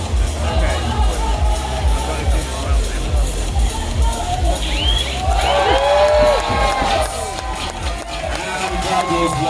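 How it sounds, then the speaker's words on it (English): Spectators cheer and shout along the course at a canoe freestyle European championship in Graz, a loud continuous crowd roar with whoops rising and falling, while a commentator talks over it. "And crowd goes wild for that"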